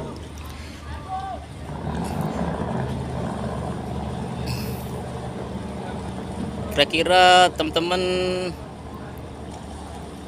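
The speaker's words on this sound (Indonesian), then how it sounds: "Sekarang proses manuver sandar-sandar dari kapal Raputra Jaya 88 di Dermaga 5 Pelabuhan Merak reguler" Ferry Raputra Jaya 88 manoeuvring to berth at Dock 5 of Merak port, a steady low engine rumble throughout with a burst of harsh mechanical whine near the end, someone talking over it.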